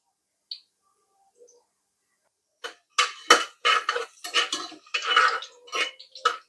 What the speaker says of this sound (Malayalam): ഇനി നമുക്ക് ഇതിനകത്തോട്ട് കുറച്ച് തേങ്ങ കൊത്തിട്ട് കൊടുക്കാം